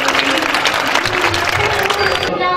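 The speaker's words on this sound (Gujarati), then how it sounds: "તાળીઓથી વધાવી લઈએ." Audience applause at a Gujarati welcome ceremony as a guest is greeted with a bouquet: steady, dense clapping from a crowd close by, with some voices mixed in, sustained throughout and cutting off sharply near the end.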